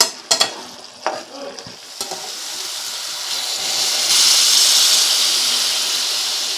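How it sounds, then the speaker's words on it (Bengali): Half-boiled potatoes stirred and fried with spices for Bengali potol posto, several close scraping and clacking strokes at first, then a steady rising sizzle and hiss with no talk. "আলুটা দিয়ে মিনিট 10 মতো মশলাটা আরও কষিয়ে নেব।"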